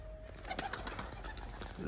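Racing pigeons at a Punjabi rooftop loft taking off as they are let go, with soft wing flutters and faint bird sounds close by over steady background noise.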